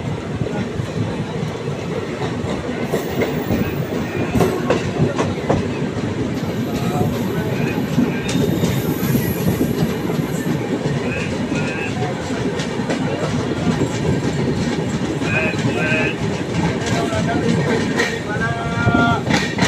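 The Dhauli Express pulls out of Cuttack with a continuous rumble and rhythmic wheel clatter. Occasional high metallic squeals sound over the steady roar of the moving carriages.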